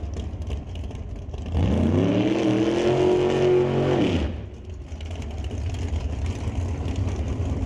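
Steve Lowe's drag race car launches off the line at Mission Raceway Park during the West Coast Outlaw Shootout, front wheels lifting. The engine roars up loudly in a rising howl for about three seconds, then drops back into a steady track-side rumble.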